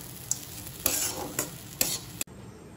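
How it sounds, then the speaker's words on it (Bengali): Shelled fried peanuts stirred into khichuri in a pan, several quick scraping stirs over a gentle sizzle, ending with a sharp clack, no talking. "আর এবার আমি এর মধ্যে দিয়ে দেবো এই ভেজে রাখা বাদামগুলো, খোসা ছাড়িয়ে নিয়েছি।"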